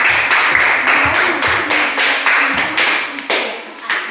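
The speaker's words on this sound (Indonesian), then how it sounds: "Tepuk tangan dulu untuk kelompok 1" A classroom group claps for the first student group, with a close, fairly loud burst of uneven, rhythmic hand claps that carries on throughout before thinning out near the end.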